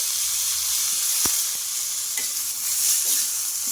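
Peanuts and fresh mint leaves frying together in a pan, giving a loud, continuous close sizzle with a few soft stirring clicks, with no voices.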